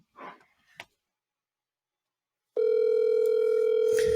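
Telephone call tone: after a brief faint voice and a short silence, a steady loud electronic phone tone starts abruptly and holds to the end.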